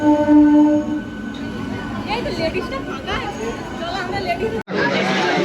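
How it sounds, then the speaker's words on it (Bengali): A rumbling, rattling ride inside a moving passenger train, with steady carriage noise under nearby chatter and talking, then a sudden break before the rolling resumes. "তো তারপর আমাদের ট্রেনে এখন ঢুকে গেছে"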